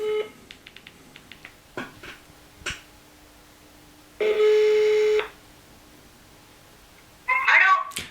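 Phone dialing on a call back to Audrey: a short run of clicky key taps, then a steady ringback tone about a second long and a brief warbling signal, heard fairly close and faint against quiet room noise.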